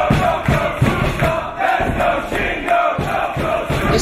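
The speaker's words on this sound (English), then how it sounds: "Listen to the crowd immediately." Crowd at a Dragon Gate UK wrestling show, Yokosuka versus SHINGO, roars in loud rhythmic surges like chanting, filling the hall with dense, continuous cheering.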